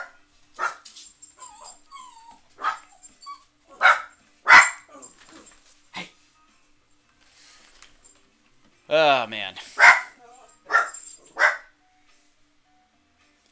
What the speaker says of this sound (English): I have a dog, by the way.